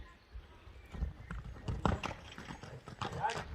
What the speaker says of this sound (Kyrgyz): экинчи номерде мына кара кашка ат экен